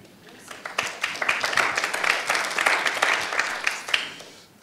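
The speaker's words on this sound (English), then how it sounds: "if you can get the applause before, that's good" Audience applause at a breakfast event, a crowd clapping steadily and fairly close, with overlapping claps that swell and then fade out at the end.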